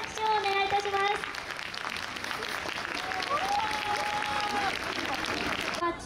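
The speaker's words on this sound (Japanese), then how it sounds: "今一度大きな拍手をお願いいたします。" Audience applause at a Chinese New Year festival performance in Yokohama Chinatown, following a lion dance. Steady crowd clapping runs throughout, with an announcer's voice heard over it and a faint pitched tone in places.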